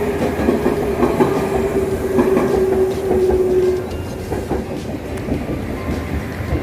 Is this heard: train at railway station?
yes